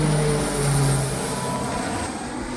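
A C-145 propeller aircraft engine drones steadily and loudly at close range, a continuous low rumble with a prominent hum, during a joint U.S. and Kenyan Air Force exercise.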